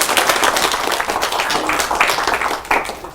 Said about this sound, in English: give Bill a clap for his talk.